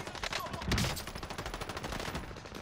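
Gunfire in a Call of Duty battle royale match on Fortune's Keep, a rapid rattling burst of automatic shots with a heavier impact near the start, close and fairly loud amid game sounds.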